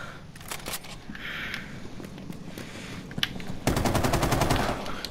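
A toy machine gun fires in bursts of rapid clicking and rattling shots, close to the microphone. The rate rises to a dense, steady volley near the end.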